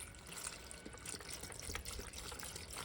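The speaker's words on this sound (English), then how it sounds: "So I'm gonna just put the liquid just over the top of the beans by maybe like an inch" Chicken bone broth poured over soaked pinto beans in a pot makes a soft, continuous watery trickle and splash, quiet and close, with no talking.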